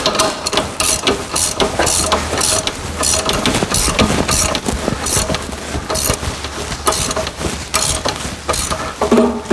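Bolts on a snow plow mount for a UTV are tightened with a ratchet, rapid mechanical clicking repeating in short bursts, close and fairly loud, with no talking.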